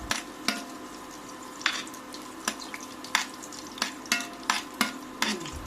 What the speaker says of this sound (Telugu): చిన్నవి పెద్దవి కలిపి 14 వెల్లుల్లి రెబ్బలను వేసుకుని లో ఫ్లేమ్లో ఇప్పుడు వీటిని ఫ్రై చేసుకోవాలి